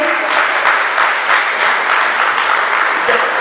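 A crowd at a community gathering breaks into steady, dense applause, loud and continuous with no talking over it.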